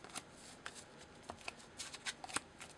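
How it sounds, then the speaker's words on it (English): Yu-Gi-Oh cards from a Dark World deck are cut and drawn by hand, producing quiet, close card snaps and papery flicks in an uneven rhythm. "So let's just say the opponent cuts your deck. You draw 5 cards."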